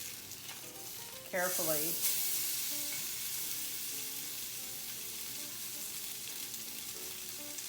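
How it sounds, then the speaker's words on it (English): Salmon fillet pan-seared skin side down gives a steady, loud broadband sizzle lasting throughout, with a brief bright burst early on and a few faint clicks; a voice speaks briefly over it. "I'm going to cook it on the skin side for probably about a minute."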